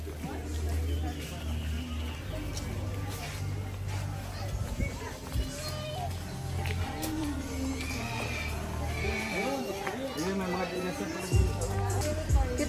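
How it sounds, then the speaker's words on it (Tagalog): Small horses at a zoo in Vigan City, with hoof clip-clop and an occasional whinny amid a busy crowd murmur and nearby talk throughout. "Cute naman ng mga kabayo dito."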